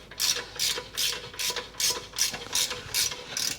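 A hand ratchet clicks in quick repeated bursts, about eight strokes in a steady rhythm, as exhaust clamps are tightened on a Mercedes G63 fitted with a Capristo exhaust; close and clear with no talk.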